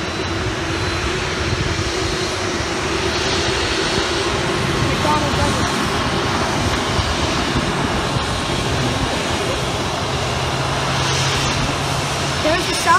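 A Delta airliner at John Glenn International Airport, its engines a loud steady roar and rumble that holds throughout, with people talking nearby.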